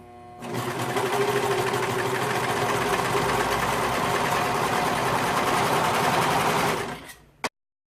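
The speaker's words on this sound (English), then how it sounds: "So we're going to serge this or zigzag stitch it." A serger sewing machine stitches fabric for a bowtie, a loud, steady mechanical whirr running continuously for about six seconds before winding down and ending with a sharp click.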